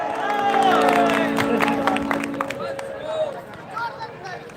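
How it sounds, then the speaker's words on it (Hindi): An audience at a live stage programme at Punni Mela 2022 in Rajnandgaon breaks into brisk clapping and crowd noise over a voice and tones, which then fade into quieter chatter. "एक बार जोरदार ताली तो हो जाए।"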